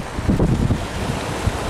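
Wind gusting across the Thames foreshore, a steady broadband rush buffeting the microphone with low rumbling gusts, fairly loud and continuous with no voices.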